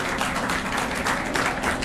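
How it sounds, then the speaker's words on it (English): Scattered clapping from a small group greeting a weight-loss weigh-in result, a steady patter of hand claps filling the short moment with no talking over it. "No, you can stop clapping."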